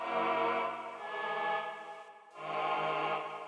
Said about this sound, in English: there's a specific preset I like to use. It's called like Blue Monday something. Sounds kind of like this.